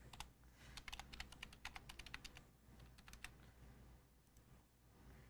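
Fingers type on a computer keyboard at a desk. Quick bursts of close, crisp key clicks sound with short pauses, fairly faint over a low steady hum.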